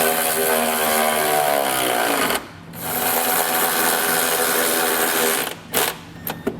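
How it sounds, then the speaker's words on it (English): A 19mm socket snugs down a trailer hitch bolt with a loud, close, steady mechanical whirring. The whirring rises in pitch, dips briefly, runs on again, then ends in a few short bursts. "we'll come back with a 19mm socket and snug it down"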